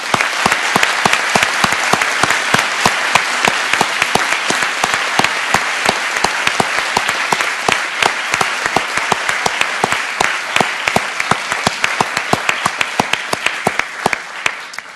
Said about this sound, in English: How about a round of applause for this class?